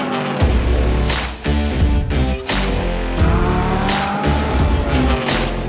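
Student-built formula race car roaring loudly on a racetrack, engine revving up and down through gear changes with a harsh, close, continuous snarl and no talk.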